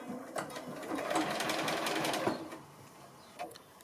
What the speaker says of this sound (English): I'm going to start from here and stitch all the way through